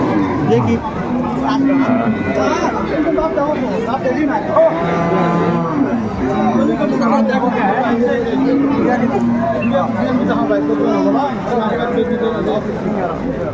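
Cows and calves moo now and then over a constant hubbub of people talking and bargaining in a crowded, noisy rural livestock market.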